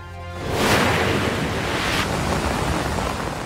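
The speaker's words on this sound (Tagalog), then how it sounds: "Rumagasa ang kulay putik na tubig sa sapa sa Digos, Davao del Sur." Muddy brown floodwater rushing from an overflowing creek in Digos, Davao del Sur after rain, heard as a loud continuous roar and hiss of turbulent water with wind buffeting the microphone.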